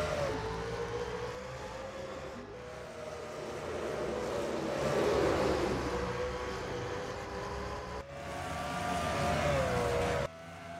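Race car engines at Evergreen Raceway in a sim racing game, a pack of cars droning with steady tonal engine whine that swells and shifts as they accelerate, continuous and fairly distant.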